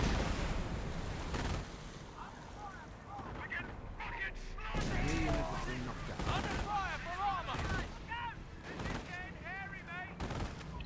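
Churchill tanks fire in a video game tank battle, with repeated booming shots and bursts over a rumbling battlefield background.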